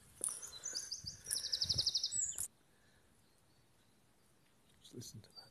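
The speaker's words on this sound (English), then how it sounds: "All you can hear are birds." Birds singing in Causeway Wood near Lumbutts, England: bright chirping and trilling calls in bursts, a quiet pause, then a few more faint calls.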